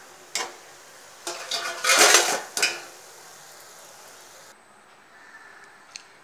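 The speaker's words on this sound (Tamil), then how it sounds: "இப்போ நான் எல்லா கட்லெட்டையும் போட்டுட்டு நான் உங்களுக்கு காட்டுறேன்." Beetroot cutlets go into a pan with a few sharp metallic clinks and scrapes of utensil against cookware, followed by a faint, soft sizzle in a quiet kitchen.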